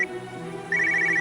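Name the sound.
telephone ringing, call from the police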